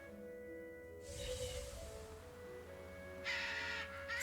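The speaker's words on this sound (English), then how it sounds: "These birds are so annoying." Crows cawing repeatedly in the video game Tales of Berseria, harsh calls in bursts over a steady background drone of game music, with no talking.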